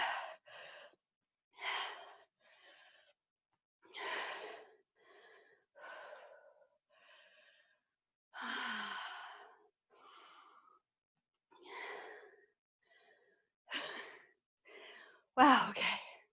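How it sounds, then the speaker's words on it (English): Heavy, gasping breaths during a recovery walk after three minutes of cardio in a yoga sculpt workout, coming as a run of separate loud exhales and sighs with short pauses between them, close to the mic. "Don't mind the heavy breathing."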